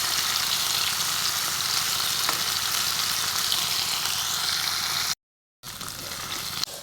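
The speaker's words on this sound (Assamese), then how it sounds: "এতিয়া মই পনীৰখিনি অলপ ভাজি লওঁ" Paneer pieces fry in oil in a pan with a steady, dense close-up sizzle that holds evenly for about five seconds, cuts out briefly, then resumes.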